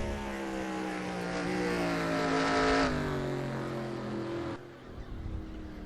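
An NR2003 stock race car at Sonoma Raceway starts its flying lap, its engine droning loud and near with a rising whine, then easing off sharply as it lifts for a corner.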